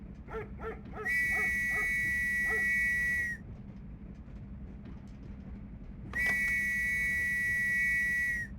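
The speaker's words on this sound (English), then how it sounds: "He gave me an insanely loud whistle." Two loud, sustained steam-train whistle blasts in the video game The Last Express, each lasting about two seconds, with a dog yipping and whimpering before the first blast.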